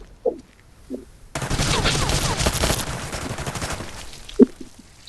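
Gunfire in a battle royale video game bursts in as a dense, loud volley of rapid shots lasting about a second and a half, then trails off, with a few faint sharp clicks and thuds around it.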